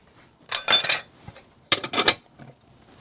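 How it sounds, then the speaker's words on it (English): Plates and dishes clatter in two close bursts of clinking and knocking, each about half a second long, separated by a short, quiet pause with faint scattered taps. "So many plates and dishes"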